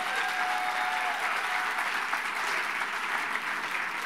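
An audience applauding the girls' golf team at a foundation party program, a steady, even roar of many people clapping, heard at a distance throughout without any voices on top.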